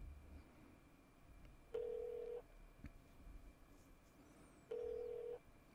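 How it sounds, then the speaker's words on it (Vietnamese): A telephone rings twice in the horror game Remothered: Broken Porcelain, two long electronic trills separated by a few seconds of quiet, with a faint hum underneath. "Bạn nghe tiếng điện thoại kìa."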